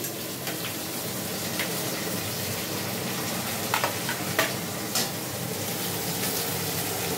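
Chopped ginger and green chili hit a hot pan for paneer butter masala, producing a loud, steady sizzle with a few faint scrapes and taps of a spoon stirring through it, with no voices.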